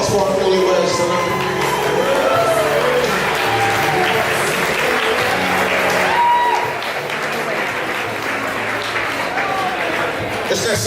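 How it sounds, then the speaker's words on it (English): Wedding guests applaud the newlyweds at a reception, loud sustained clapping mixed with cheers, whoops and shouts from the crowd before it eases off. "let's have a round of applause for our newlyweds tonight"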